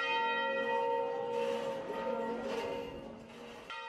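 A bell rings at a small monastery church with a bell tower set into cliffs, its clear sustained tone humming and overlapping with further strikes, loud and close throughout with no talk.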